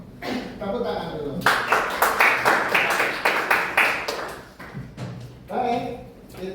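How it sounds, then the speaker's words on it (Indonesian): Students in a school classroom clap their hands together in a fairly loud, rhythmic round lasting a few seconds, with a teacher's voice speaking before and after the clapping. "Tepuk tangan dulu."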